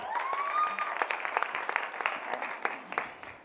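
Audience at a women's business breakaway session applauds warmly, a dense stream of many hands clapping over a few seconds, moderately distant, with a faint voice briefly in the background.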